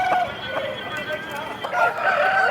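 Roosters at the Nallapadu market crow in drawn-out calls, overlapping near and farther away, with other fowl clucking in the background.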